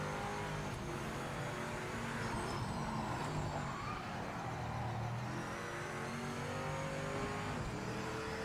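A race car engine in the Project Motor Racing game revs and strains steadily, its tone rising and falling through gear changes. It sounds fairly quiet and continuous, with no talk.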